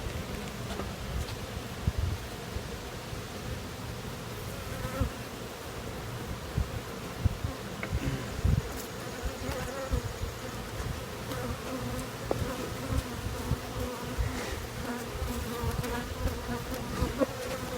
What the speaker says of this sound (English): this is what a queenless hive acts like. They're very aggressive.